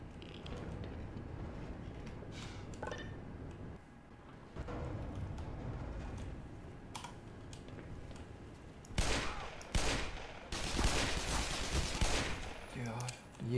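Video game gunfire in Black Mesa, shots and bursts running steadily throughout, growing louder and denser with heavy blasts near the end.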